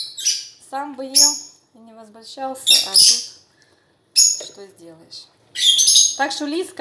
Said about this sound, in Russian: попугай галдит, делает всем больную голову